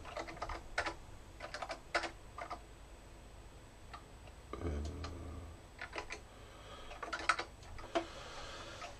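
Someone types on a computer keyboard during live coding, with irregular bursts of quiet, close key clicks separated by short pauses.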